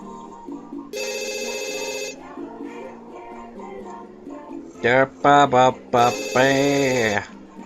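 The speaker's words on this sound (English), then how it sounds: "Phone call." A telephone rings in The Sims 2, repeated electronic ring bursts over the game's background music, while simlish chatter from the characters is heard between the rings.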